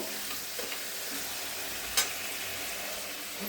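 Potatoes frying with turmeric in a pan for a Bengali lunch, a steady dense sizzle with faint stirring scrapes and one brief clink, no voices.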